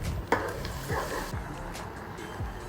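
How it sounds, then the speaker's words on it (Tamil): Green chillies and curry leaves sautéing in oil for a spicy duck gravy, a low sizzle with a couple of brief stirring scrapes and one sharp clink, close by. "அப்புறமா ஒரு கொத்து கருவேப்பிலை அதையும் சேர்த்து நல்லா வதக்கிக்கலாம்"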